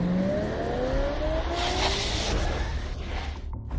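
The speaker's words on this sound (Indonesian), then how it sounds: "Mercy G-Class." A Mercedes G-Class drives by on a road with steady, loud engine noise and a rising tone, the tire and engine roar filling the whole stretch before easing off at the end.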